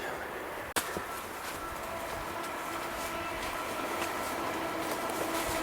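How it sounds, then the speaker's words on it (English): A train passing in the distance at night near Frankenstein Castle, a faint, steady rumbling rush with a rail hiss that holds evenly throughout, after one brief sharp knock near the start. "Oh, you can hear the train coming through."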